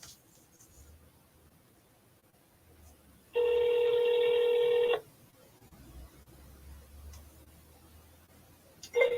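A telephone tone on an outbound dialing call sounds once as a steady electronic ring lasting about a second and a half, clear over a quiet office room hum.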